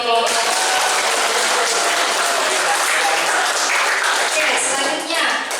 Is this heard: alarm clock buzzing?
no